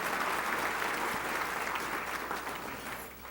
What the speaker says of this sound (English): Why don't we give another round of applause to both Janet and Marshall for their introductory remarks.